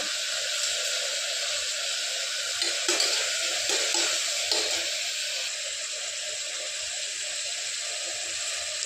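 Tomatoes with salt sautéing in a pan for vegetable biryani, giving a steady close sizzle and hiss that holds throughout, with faint stirring scrapes in the middle.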